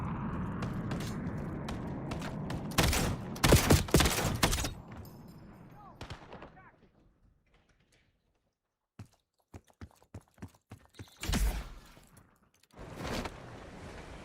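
Bursts of gunfire and triggered mortar blasts in a video game come in loud clusters separated by quieter stretches and near-silence, with sharp thuds and mechanical clicks scattered between the volleys.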